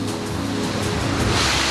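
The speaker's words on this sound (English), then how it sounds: "I've reached the ocean." Ocean waves at a harbour on the Singapore coast roll in as a steady, loud, broadband wash with no pauses and no voices.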